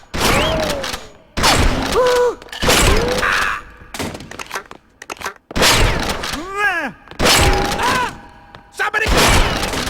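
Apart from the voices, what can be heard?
shotgun blasts in the video game Perfect Dark Zero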